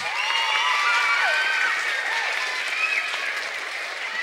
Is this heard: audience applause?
yes